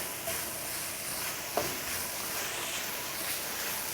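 Chopped shallots sizzle in a hot pan while being stirred in, a steady close hiss of frying with one brief scrape of the utensil midway.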